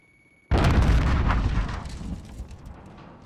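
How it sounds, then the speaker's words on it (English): In Call of Duty: Modern Warfare, a thrown grenade goes off after a short near-silence as a single loud, deep blast, and its rumbling tail fades over about three seconds. "Throwing grenade."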